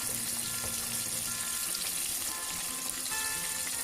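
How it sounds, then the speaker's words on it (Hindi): Chicken for a KFC-style zinger burger fries in hot oil, a loud, steady close-up sizzle and crackle that continues without a break and without talk. "हमने इसको एटलीस्ट 5 मिनट के लिए फ्राई करना है।"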